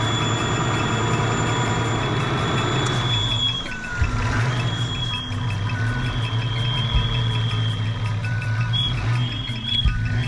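A Fox-body car engine idles steadily with a low rumble, dipping briefly as a vacuum line is unplugged before settling into a rougher, lower idle; faint high beeps recur in the background.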